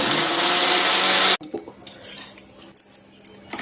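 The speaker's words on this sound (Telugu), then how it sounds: "ఇప్పుడు నేను మిక్సీ చేస్తాను చూడండి" A mixer grinder's loud, steady motorized whir runs for over a second while grinding onion chutney and stops abruptly, followed by clattering and knocking of a jar and lid.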